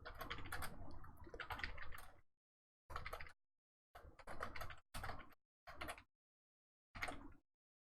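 Fast computer-keyboard typing comes in uneven bursts of clicks separated by silent pauses, close and quiet, with no voices.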